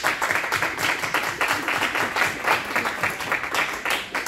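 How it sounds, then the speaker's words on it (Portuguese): A live music audience claps and applauds in a dense, steady wash of many hands, loud and sustained throughout. "uma salva de palmas para o público"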